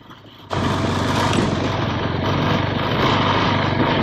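Motorcycle engine straining up a steep mountain road toward Sandakphu, a loud buzzing rev that kicks in abruptly and holds steady and close, with traction control working.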